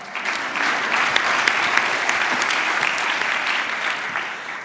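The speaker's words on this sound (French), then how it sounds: "vous pouvez aussi l'applaudir" Steady, dense applause fills a hall at a student speaking-prize ceremony in Aix, an even wash of many hands clapping at constant volume with a few sharper claps popping out.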